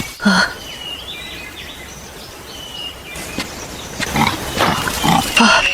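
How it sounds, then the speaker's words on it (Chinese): A wild boar gives short snorting grunts, one early and then a cluster near the end, with faint bird calls in the background. "我突然听到一阵哼哼声"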